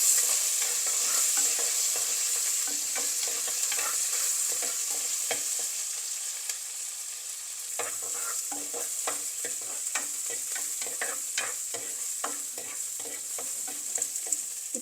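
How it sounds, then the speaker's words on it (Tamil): Garlic, shallots and green chillies fry steadily in a pan, a continuous close sizzle with scattered crackles and pops and occasional stirring scrapes, with no talking. "இப்போ இது நல்லா கொஞ்சம் பொரிஞ்சு கொண்டு வருது. இன்னொரு 2 நிமிஷம் நல்லா பொரியட்டும்."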